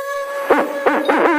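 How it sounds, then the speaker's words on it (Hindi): Cartoon owl hooting loudly, three distinct wavering hoots in quick succession over a steady synthetic background tone. "उन राहगीरों को देखकर उल्लू जोर जोर से चिल्लाया।"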